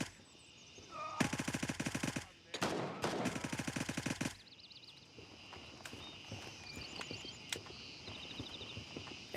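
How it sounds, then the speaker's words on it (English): Rapid automatic gunfire empties a magazine in the game Gray Zone Warfare, with two dense bursts of sharp shots close by, followed by quieter ambient game sounds. "Somewhat of a mag dump."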